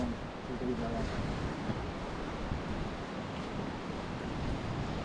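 Continuous surf washing and churning close by on a rocky shore of Jersey, a broad steady roar of waves with wind, no clear voices.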